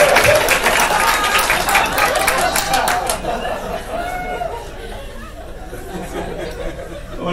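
A comedy club crowd claps loudly at first, then the applause thins and fades into scattered chatter and a few laughs in the room.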